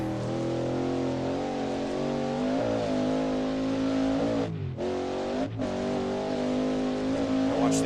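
Ford GT40 engine in a historic sportscar racing simulator at Bridgehampton, revving hard and over-revving with rising and falling tones, a brief dip during a gear change, loud and continuous with no talk.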